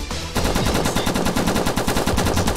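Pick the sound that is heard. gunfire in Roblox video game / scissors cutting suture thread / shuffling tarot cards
gunfire in Roblox video game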